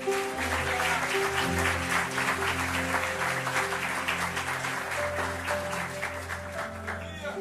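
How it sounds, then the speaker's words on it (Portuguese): Crowd applause at a church worship service in Lisbon rings out over sustained organ-like music tones, the clapping steady and fairly loud before easing slightly near the end. "Vou aplaudir Jesus por isso"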